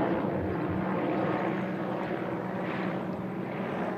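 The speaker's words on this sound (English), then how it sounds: "the constant sound of helicopters overhead a reminder of bushfires just kilometres away" Helicopters flying overhead near bushfires just kilometres away give off a continuous, loud rotor and engine roar that holds steady throughout with no speech.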